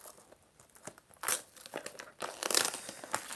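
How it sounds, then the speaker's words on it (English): Protective plastic film being peeled and crinkled off a package holding aviation CRP exchange parts, close irregular crackling and tearing bursts that grow louder toward the end, with no voices. "taking off the film just like that"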